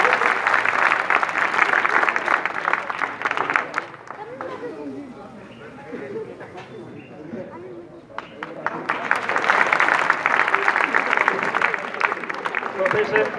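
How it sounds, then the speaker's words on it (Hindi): Loud applause from a seminar audience welcoming a guest speaker at a national astrology conference, steady clapping that dips briefly to murmuring chatter in the middle before swelling again into full applause. "जोरदार तालियों के साथ स्वागत"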